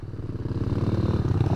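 A dirt-bike motorcycle revs hard on a muddy trail, its engine pulsing in a loud, rapid, throbbing rhythm close by as it strains to accelerate.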